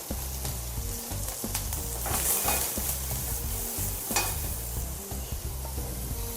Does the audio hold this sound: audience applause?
no